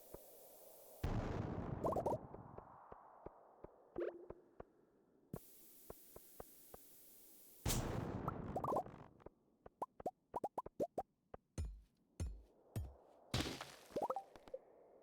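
Bombs going off in Stardew Valley while blowing up dirt, heavy booming bursts near 1 s and 7.6 s with a string of sharp pops and clicks scattered through the rest, no talking.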